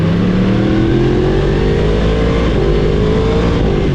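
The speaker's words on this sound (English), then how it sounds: "The CP4 has a very beefy balancer shaft that you can hear when taking off from a light." A loud, steady Yamaha R1 motorcycle engine roar under acceleration from a stop, with a rising balancer-shaft whine climbing in pitch as the bike pulls away.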